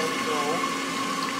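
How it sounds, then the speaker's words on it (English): Water jet cutter slicing metal with garnet abrasive, a steady loud hiss and pump-like rushing with a faint warbling tone, continuous throughout under a voice talking. "a really powerful, precise sandblaster that uses water instead of air"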